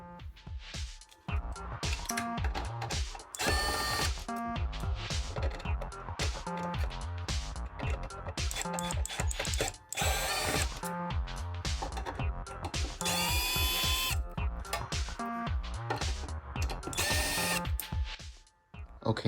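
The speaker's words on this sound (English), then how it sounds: "You're going to have to remove 4 of these Phillips screwdriver or screws right here" A power drill or electric screwdriver whirs in repeated loud bursts, close up, while Phillips screws are backed out of the fan assembly of a Ninja Foodi Deluxe air fryer, with brief pauses between screws.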